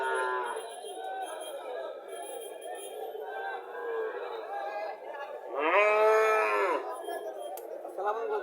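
A Haryana cow or calf at a rural cattle market in Comilla, Bangladesh, gives one loud, drawn-out moo near the middle, set against steady crowd chatter and people talking throughout.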